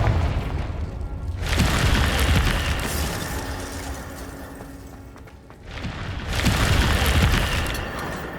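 Two heavy booming fire-spell blasts from Hogwarts Legacy, each a sudden loud burst that rolls and crackles for a few seconds before fading.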